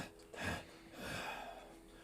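A human voice imitates a creature's rhythmic panting: two soft, breathy exhalations close to the microphone, one short and one longer, quiet and airy.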